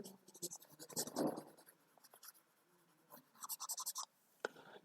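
Pen or chalk scratching out a maths question for a Class 9 exercise, in short irregular bursts of close, crisp strokes with brief pauses between.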